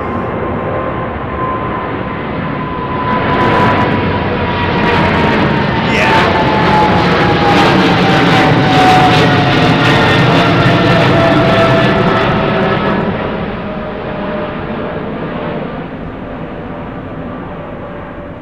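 A Boeing 787-10 airliner departs London Heathrow's runway 09R, its engine roar swelling to a loud, sustained rumble with a rising whine before slowly fading into the distance.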